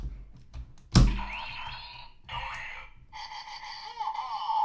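A DX Super Drill Astro Switch toy is pulled apart with a sharp click, followed by bright electronic tones and chiming sound effects from the toy, close and alone.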